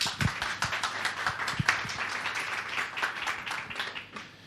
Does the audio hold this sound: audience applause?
yes